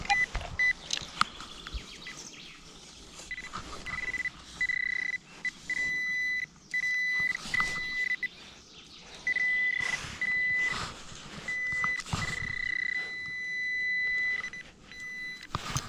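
An At Pro metal detector emits repeated electronic beeps and tones of varying length, signalling coins at a lakeshore, over faint background rustling and handling noise.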